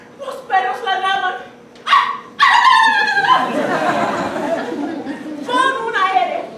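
A few sharp dog barks and yips ring out as a sound effect during a university touring theatre staging of Shakespeare's Love's Labour's Lost, followed by loud, lively voices and stage chatter.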